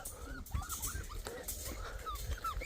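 A dog tangled in its leash whimpers and whines in high, wavering cries, repeated several times at close range.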